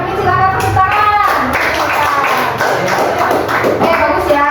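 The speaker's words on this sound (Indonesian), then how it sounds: "terima kasih kepada Bu Marlo dan Kak Mimi, silakan tepuk tangan." Children and adults clap in a classroom during a coding and artificial intelligence lesson, a brief round of hand claps with taps and thuds, mixed with children's voices throughout.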